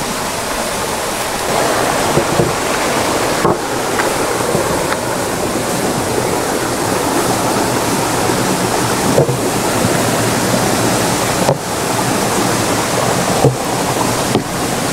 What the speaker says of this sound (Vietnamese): Tới đây có một con suối, nước chảy róc rách.